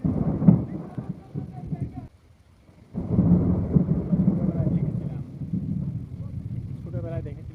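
Drizzling rain during a storm with deep rolling thunder, a heavy low rumble that drops out briefly and then returns loud and sustained, heard from outdoors.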